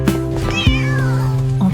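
A kitten meows alone and close by: one long, rising-then-falling cry with a shorter mew at its start and another near the end, over a faint background hum.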